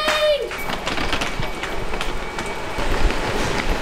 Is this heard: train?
yes